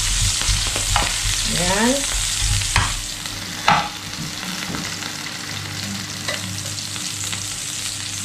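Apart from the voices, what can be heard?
onion frying and being stirred in a pan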